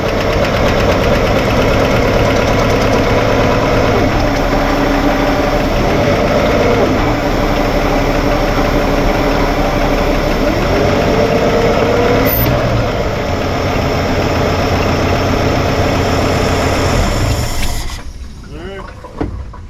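A 1955 Chevy engine runs rough and noisy with a steady knocking idle, loud and close, holding for most of the stretch before cutting off near the end.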